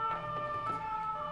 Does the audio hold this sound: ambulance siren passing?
yes